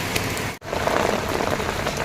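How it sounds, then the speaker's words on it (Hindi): Heavy rain falls steadily outdoors during a vegetable harvest, a dense, loud, continuous hiss of drops striking surfaces, with no talk over it. "तो जैसे कि बारिश की आवाज़ आप लोगों को आ ही रही होगी, बहुत तेज़ बारिश हो रही है।"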